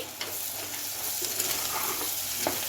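Bitter gourd tamarind stew is stirred in a pot on the stove, giving a soft, steady sizzle with faint scraping, close and continuous throughout.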